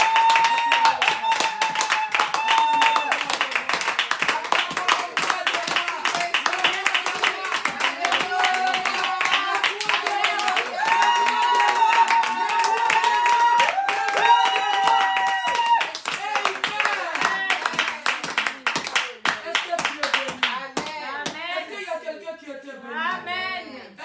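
A church congregation claps in a steady rhythm throughout a worship service, with singing or voices over the clapping and the applause thinning out near the end.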